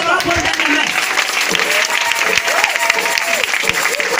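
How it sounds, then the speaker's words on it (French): Church congregation at a Christmas 2018 service in Bregbo applauds and cheers loudly and without a break, with voices calling out through the clapping. "Et je veux que tu l'acclames ce soir."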